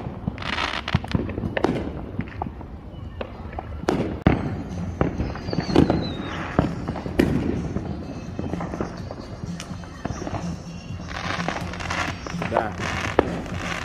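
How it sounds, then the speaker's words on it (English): Fourth of July fireworks and firecrackers go off on the east side of Las Vegas. Rapid, irregular pops and crackles come from nearby and across the area, and a person briefly speaks. "probably fireworks over here."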